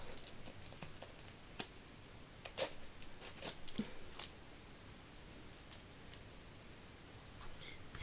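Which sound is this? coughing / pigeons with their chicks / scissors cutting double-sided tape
scissors cutting double-sided tape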